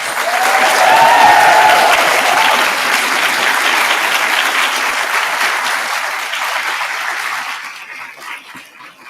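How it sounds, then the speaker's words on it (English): Graduates at a graduation ceremony give loud, sustained applause with some cheering, a dense wash of clapping that fills the hall and slowly thins out near the end. "invite our graduates to now share back the applause and the cheering to thank your guests"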